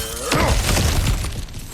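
Objects shatter and smash in God of War Ragnarök, a loud burst of breaking debris with cracking and crumbling fragments over roughly a second and a half, with a brief tonal ring underneath.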